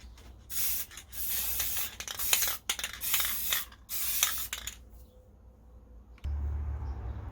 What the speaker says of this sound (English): So I'm going to go ahead and spray paint this now because it is finally dry.